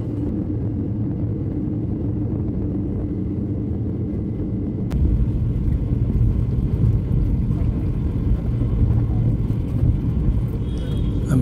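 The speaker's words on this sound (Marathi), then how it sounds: "विमान रनवेला टच झालेलं आहे।" Inside a passenger airplane just after touchdown on the runway, a steady low cabin rumble fills the space, growing louder with a sudden jolt midway, while people talk quietly.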